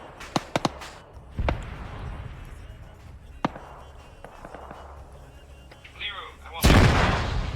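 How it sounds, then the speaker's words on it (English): Mortar rounds fire and explode in the video game Arma 3: a few sharp close reports, then dull booms at intervals, ending in a loud, broad blast, with voices faintly underneath. "second charge just went off on that mortar"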